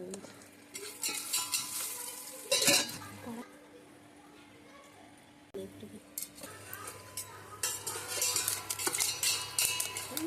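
Popcorn cooks in a covered pot indoors in a room, with sizzling, rattling and clanking of the pot and utensils in bursts, and people talk over it.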